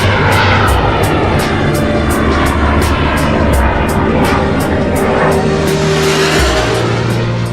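A Sukhoi jet roars loudly and steadily overhead at a flight test base, a dense continuous engine rumble and whine filling the scene with no voices.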